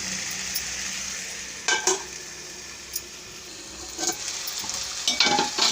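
Mushroom curry with onion and tomato sizzling in a pan, a steady hiss broken by a few scraping, clinking strokes of a spoon stirring against the pan, close by with no talking.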